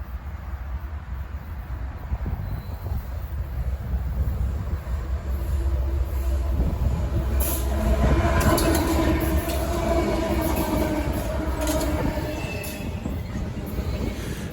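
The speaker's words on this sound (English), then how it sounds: "A pair of GEs led this stack train past our cameras." A long freight stack train led by a pair of GE locomotives rumbles steadily past, with rolling wheel noise and occasional metallic squeals, loud and close throughout, no voices.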